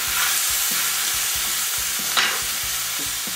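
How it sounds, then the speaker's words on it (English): Chicken fries at high heat in a pan, a loud, dense sizzle up close with a rhythmic series of scraping stirs and one sharper clatter partway through, no speech. "And we're going to fry that at high heat. Don't worry about sticking to the bottom, it just improves the flavor."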